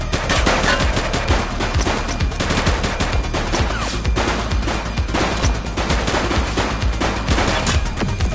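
Dense, continuous automatic gunfire from the police action game The Precinct, loud and relentless with rapid overlapping bursts filling the whole stretch and no pauses.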